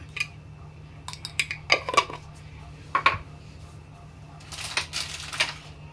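A metal spoon scraping and clinking against a pan while spices are stirred into chicken curry, with scattered taps and a cluster of quick clatters near the end over a low steady hum.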